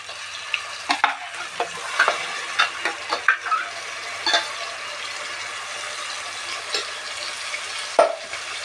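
Tomato paste sizzles steadily in a pan while a spoon stirs it, making irregular scraping clicks and taps over a constant frying hiss, close and clear with no talking.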